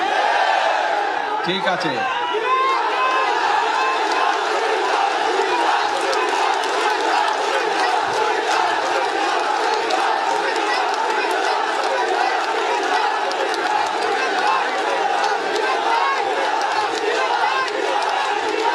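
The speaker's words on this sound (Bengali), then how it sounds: "আসার সময় আমি দেখলাম সবাই স্লোগান দিচ্ছে, কি চাই? কুমিল্লা বিভাগ।" Crowd noise at a political rally where people chant slogans demanding Comilla division, a dense, steady roar of many voices throughout with shouts and cheers, and a brief nearby spoken phrase near the start.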